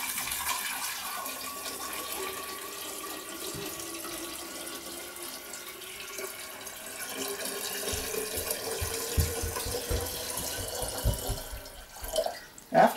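Water runs into a jar of sprouting seeds from a tap, a steady trickling fill that swells into gurgling, splashing bursts near the end, close by, with no speech.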